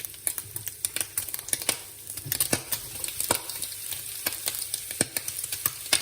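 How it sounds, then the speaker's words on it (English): Bacon and onions sizzling in bacon fat in a frying pan, a close, crackling patter with sharp pops and spits scattered throughout, no voices. "you heard the bacon spit"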